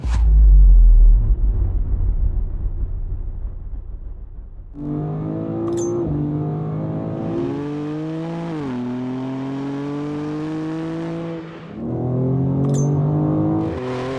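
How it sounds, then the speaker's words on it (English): BMW M2 CS fitted with a Turner valved catback exhaust, starting with a low rumble, then revving hard through rising and falling gear pulls with a loud, close engine note, a brief dip, and another strong pull. "this is not going to be a night and day difference between the factory setup and now with this Turner valved catback exhaust"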